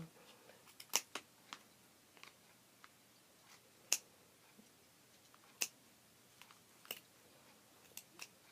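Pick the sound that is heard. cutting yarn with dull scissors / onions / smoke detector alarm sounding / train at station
cutting yarn with dull scissors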